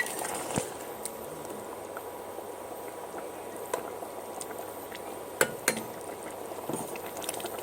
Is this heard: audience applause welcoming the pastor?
no